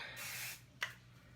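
Hairspray sprayed onto hair: a sustained hiss of about half a second, followed by a short sharp burst, both close and fairly quiet, with a low steady hum beneath.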